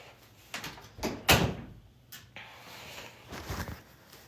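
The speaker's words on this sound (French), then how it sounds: "Je ferme ma porte" Bedroom door being closed at home, a few soft knocks and shuffles around a single firm thud, close and fairly quiet, with no speech.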